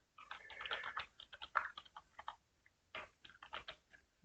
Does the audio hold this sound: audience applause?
no